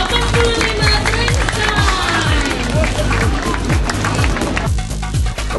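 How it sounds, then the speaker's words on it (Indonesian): Applause and cheering from a crowd at an event celebrating TK Aisyah 85 Trend Science kindergarten in Ciputat Timur. Steady, dense clapping fills the whole stretch, with a rhythmic beat and tonal music running underneath. "Tepuk tangan untuk TK Aisyah 85 Trend"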